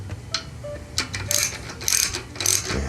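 A ratchet retightens a bolt on the carburetor of a Subaru SP 170 engine on a Ridgid pressure washer, making several quick bursts of crisp metallic clicking close by, with short pauses between strokes.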